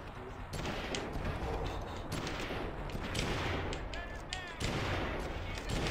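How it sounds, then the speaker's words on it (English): Continuous, loud rifle fire rattles through a GameCube shooting game, 3/3 Gun, as rapid overlapping shots form a dense barrage with sharp fresh bursts breaking in periodically. "I'm gonna use my rifle"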